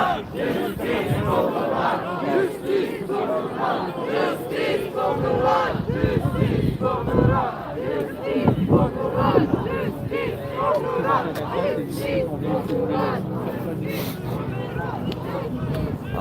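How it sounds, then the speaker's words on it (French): A crowd of protesters chants slogans against police abuse at a street demonstration in Longueuil, a dense, continuous roar of many voices shouting together, near and loud throughout. "les gens commencent à scanter les slogans"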